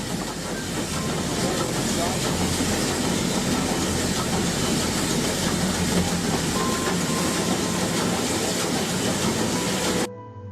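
A train rumbles along the rails with a dense, steady roar and hiss that holds loud and unbroken for about ten seconds, then cuts off abruptly.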